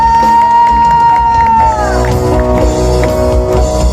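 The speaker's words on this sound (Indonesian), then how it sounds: "Berikan sorak-sorai bagi Tuhan." A church congregation cheering and shouting praise to God, a loud crowd roar with whoops and shouts that swells over the fading tail of sung music.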